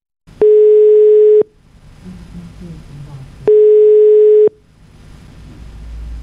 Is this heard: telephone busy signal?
yes